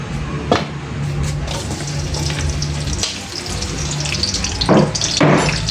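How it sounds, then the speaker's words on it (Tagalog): Onion and garlic sauté in a pan as the first step of a duck caldereta, giving a steady, close frying hiss with a few louder sizzling bursts near the end. "magigisa muna tayo. Sibuyas, bawang, siyempre"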